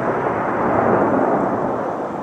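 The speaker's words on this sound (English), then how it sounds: "Oh, there we go. Thunder snow." Thunder during a snowstorm rolls as a loud, sustained, broad rumble that fills the whole moment and fades slightly toward the end, with no voices.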